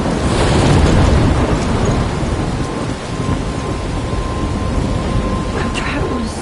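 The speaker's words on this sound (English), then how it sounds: "I'm trapped in a storm?" Video game thunderstorm with dense, loud rain and heavy low thunder rumbling throughout, strongest at the start, with a few brighter crackles near the end.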